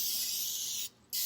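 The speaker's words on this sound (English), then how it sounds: "doing a nice light spray" Cooking oil sprays onto a baking sheet in a steady close hiss, broken by one short pause before a second burst.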